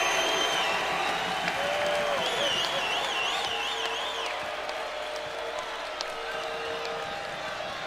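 Crowd noise fills a college basketball arena at a Mississippi State versus South Carolina game, a steady roar with scattered whistles and shouts. A rising, wavering whistle-like tone cuts through near the start.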